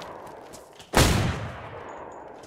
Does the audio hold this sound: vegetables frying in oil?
no